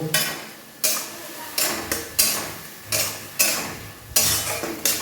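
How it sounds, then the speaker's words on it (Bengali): A spoon scrapes and stirs spices with turmeric, ginger and garlic sautéing in a pan for egg bhurji, producing regular loud metallic scrapes roughly every half second over a soft frying sizzle. "দেখো বন্ধুরা আমি এইটাকে ভালো মতো কষিয়ে নিচ্ছি"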